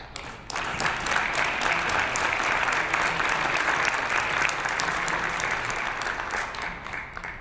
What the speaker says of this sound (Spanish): Bueno, pues un aplauso.